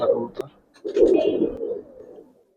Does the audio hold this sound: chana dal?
no